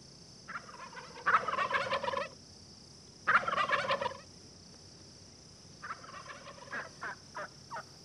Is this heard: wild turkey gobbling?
yes